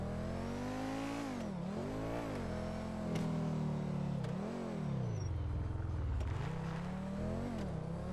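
A powerful but poorly handling car in a driving video game revs hard and steadily throughout, its engine pitch climbing and dropping through repeated gear changes, loud and continuous with no talk.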